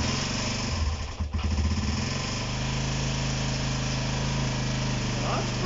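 A Honda CB125 RS motorcycle engine idling on choke, a loud steady close-up putter with a brief stumble near the start, and a voice speaking over it.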